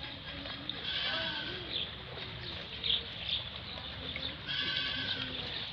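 Barbari and Teddy breed goats bleat several times in a farm pen. The calls come one after another, near and moderately loud, over a busy background with some faint voices.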